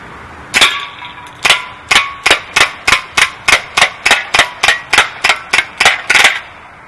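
An Umarex Steel Force BB gun fires a rapid string of about sixteen sharp cracks at a 7-Up can, evenly spaced and loud, with metallic clanks on impact in an outdoor field.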